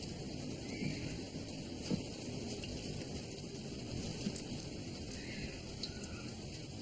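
Steady, dense rain pours throughout a bad storm at night on farmland, with a few faint, distant rumbles that may be thunder, and no voices.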